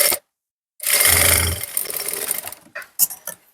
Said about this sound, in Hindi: हमने सीधी सिलाई लगा ली है।